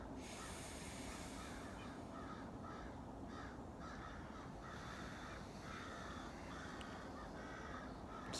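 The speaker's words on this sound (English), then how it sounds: "These crows are going crazy over there." Several crows caw again and again across a winter marsh, their harsh calls coming in irregular bursts from some distance over a steady wash of background noise.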